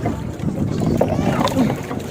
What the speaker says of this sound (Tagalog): Bangka-bangka.